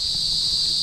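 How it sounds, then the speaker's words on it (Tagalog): Crickets chirping at night, a steady continuous high-pitched trill that fills the whole brief moment without a break. "nagising ako sa ingay ng mga kuliglig"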